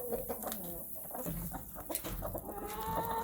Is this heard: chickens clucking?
yes